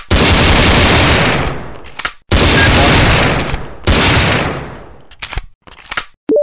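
Loud, sustained bursts of Desert Eagle pistol fire in three long volleys, each ending abruptly, with short gaps and a few sharp clicks and clanks between them.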